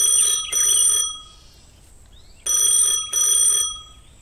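A telephone rings in two double bursts, a bright electronic trill repeating with a pause between pairs, loud and close.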